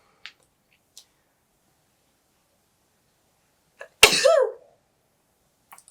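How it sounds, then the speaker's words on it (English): After a few faint breaths and clicks in near silence, a single loud, close sneeze bursts out and trails off into a brief nasal tail. "I'm gonna sneeze."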